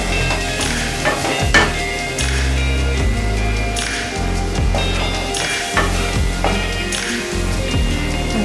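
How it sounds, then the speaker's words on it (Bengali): Pointed gourd and potatoes with turmeric fry in a pan for a Bengali potol curry, giving a constant close sizzle while a spatula scrapes and stirs in repeated sweeping strokes. "এবার ভালো করে নেড়ে চেড়ে আলুগুলোকেও ভেজে নেব।"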